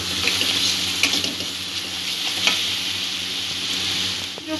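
Masala spice mix sautéing in oil, a steady sizzling hiss throughout with occasional scraping stir strokes and faint clinks, close and fairly loud with no talk.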